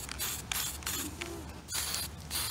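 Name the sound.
spray primer being sprayed onto a white model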